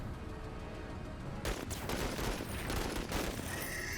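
Gunfire in the Menace strategy game erupts after a quiet stretch into a loud, rapid fusillade of overlapping shots and bursts, close and sustained to the end.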